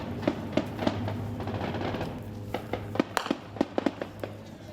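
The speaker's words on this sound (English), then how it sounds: "The sound of gunfire is immediate." Sharp gunshots crack out in irregular bursts in war-torn Gaza near the Israeli border, some single and some in quick clusters, echoing at a middle distance over a low background hum.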